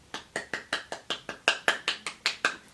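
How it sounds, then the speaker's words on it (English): A single person claps alone in a steady, even rhythm, about a dozen sharp, close handclaps spaced roughly a fifth of a second apart, with no voices. "That was a round of applause for myself."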